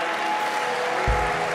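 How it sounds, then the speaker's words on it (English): Church congregation applauding during a Sunday morning service, a dense, steady wash of hand clapping with a low thump near the end and no speech. "Give God a great big old hand clap."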